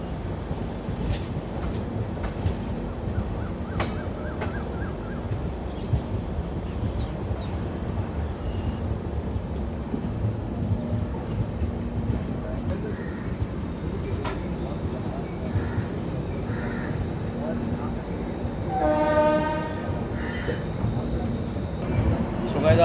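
An 04651 Jaynagar–Amritsar Humsafar clone train rolls slowly through Jalandhar City without stopping. Steady wheel and carriage rumble continues throughout, with faint voices, and a brief horn blast sounds near the end.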